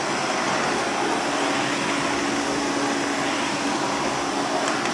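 A Hoover Constellation 86 vacuum cleaner runs steadily, a continuous loud broadband whoosh and motor hum with no breaks, heard close up.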